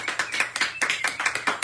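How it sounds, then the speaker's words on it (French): A small studio audience claps during a live broadcast as models are introduced. The quick, fairly even claps sound close and steady for a brief stretch, with no talking over them. "On les applaudit des honneurs."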